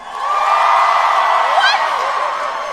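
A comedy club audience cheers and whoops at a Taylor Tomlinson stand-up show, a loud mass of yells and shouts rising together and holding steady for a few seconds.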